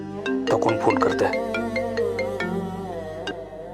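A melodic phone ringtone plays loud and close, a run of bright tones repeating in a pattern with no one talking over it.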